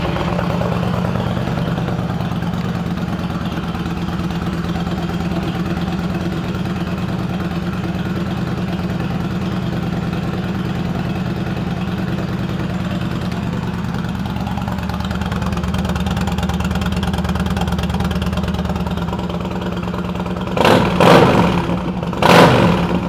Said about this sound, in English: This 2012 Yamaha Stryker 1300 is a pre-owned motorcycle